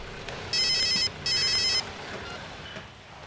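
A telephone bell rings in two short bursts with a pause between them, bright and fairly loud over faint room ambience in a Hindi-dubbed South Indian action film.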